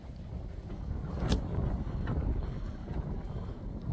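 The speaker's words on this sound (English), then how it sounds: "Now the wind starts." Wind gusts outdoors in a yard with scrub oak and brush, rumbling against the microphone as a steady low roar that swells a little and holds for a few seconds.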